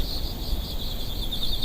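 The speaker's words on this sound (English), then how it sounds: "the forest grew quiet except for the chirping of crickets and the soft rustling of leaves" Crickets chirp in a forest at night, a continuous high pulsing trill that sits clearly over a soft, hissy background.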